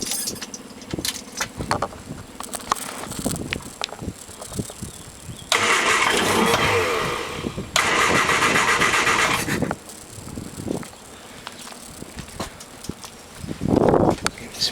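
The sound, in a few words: 1973 MG Midget engine starting after 15 years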